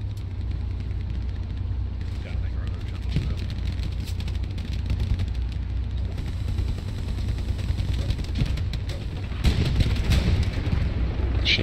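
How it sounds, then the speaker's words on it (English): Dense gunfire from the World War II shooter Hell Let Loose near Utah Beach, shots and distant booms crackling continuously over a steady low engine rumble, with a louder burst of firing toward the end. "Gun fire."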